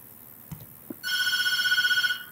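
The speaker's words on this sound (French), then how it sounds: "Encore l'appel téléphonique." A telephone rings in the video game Tatteltail, a bright, rapidly trilling electronic bell lasting about a second, preceded by a couple of soft thumps.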